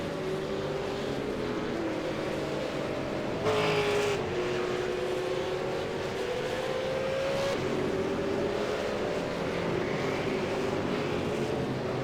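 A V8 Supercar, a Ford Falcon, in a sim racing game at Donington Park accelerates out of a corner, its engine pitch climbing steadily through a gear change, loud and continuous with no talking.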